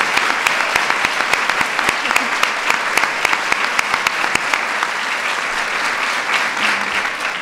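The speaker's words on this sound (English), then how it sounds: "let's give them both another round of applause" An audience applauds at a women-in-the-military celebration honoring veterans, a loud, sustained burst of many hands clapping with sharp individual claps standing out near the front, continuing steadily throughout.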